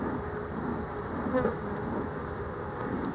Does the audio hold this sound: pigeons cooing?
no